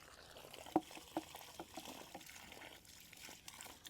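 Water draining out of a heated water system, a soft continuous trickle and dribble of liquid with two sharp little clinks early on, faint and close, with no voices.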